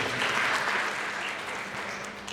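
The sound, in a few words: audience applause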